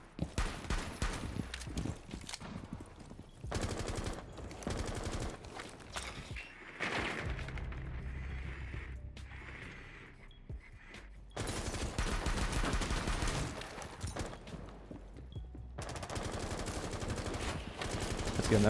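Pistol gunfire in a competitive shooter video game comes in dense, loud bursts of rapid shots, separated by a few quieter pauses.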